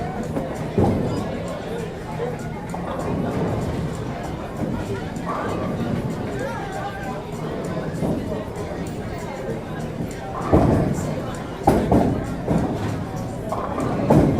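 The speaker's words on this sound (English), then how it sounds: "Again, a nice little crowd here tonight." A crowd of spectators chattering at a night-time event, a steady murmur of overlapping voices and babble with occasional louder bursts and knocks near the end.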